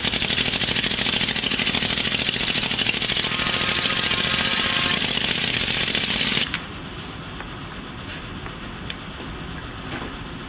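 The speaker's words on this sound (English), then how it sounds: "he further compacts the sand with an air rammer" A pneumatic air rammer compacts foundry molding sand in a steady, loud, rapid pounding chatter for about six seconds, then cuts off and leaves a quieter background with a few faint knocks.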